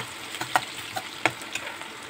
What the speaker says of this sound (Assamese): এইখিনি অকণমান ৰঙচুৱাকৈ ভাজি লওঁ